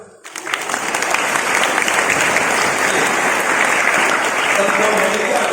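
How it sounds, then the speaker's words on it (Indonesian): An audience at an Islamic religious lecture breaks into loud, dense applause that swells quickly after a quiet start and holds steady throughout. "Tepuk tangan untuk Gusman."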